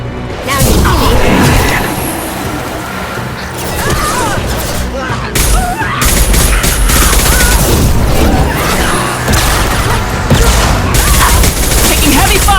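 Heavy gunfire in the video game Mass Effect: loud, dense automatic bursts and booming impacts rattle almost nonstop, with brief lulls and what sound like voices mixed into the chaos.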